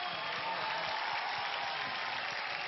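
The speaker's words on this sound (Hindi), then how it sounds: "आइए, जोरदार तालियां।" Applause from a TV talent show studio audience on India's Got Talent, a steady wash of many hands clapping together, fairly soft and even throughout with no voices over it.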